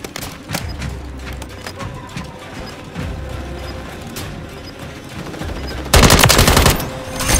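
Bursts of automatic gunfire in Modern Warfare 3 multiplayer, rattling shots over steady battle noise that end in a loud, dense volley of rapid fire.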